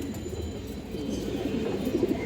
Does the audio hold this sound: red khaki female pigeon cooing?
yes